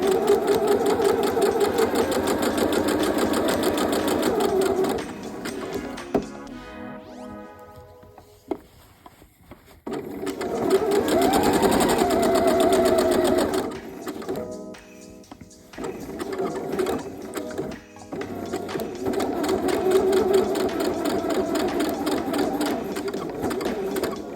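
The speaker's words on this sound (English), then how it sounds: "And then stitch all the way to the top of our pocket." A sewing machine stitches a denim dress pocket up to the top, running in steady loud bursts with a brief pause and backstitch in the middle, then resuming its continuous whirring stitch.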